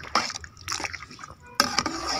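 Water is poured into a pot of rice for a vegetable biryani, heard as short splashing and trickling bursts close by with brief pauses between them.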